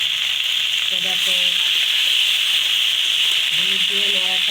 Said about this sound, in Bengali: হলুদ দিয়ে নাড়াচাড়া দিচ্ছে, এখন মশলা দিয়ে দেবে।